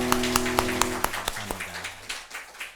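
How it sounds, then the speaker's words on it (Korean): A Korean church congregation claps in welcome during a Sunday worship service. Sharp, fairly rhythmic claps ring over sustained musical tones, then loosen and fade toward the end. "주님의 사랑으로 우리 박수로 환영하겠습니다."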